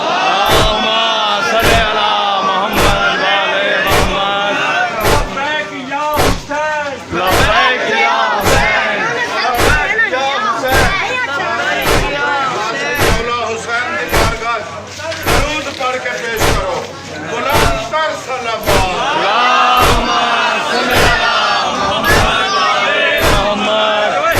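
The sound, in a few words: crowd loudly reciting salawat at a Muharram procession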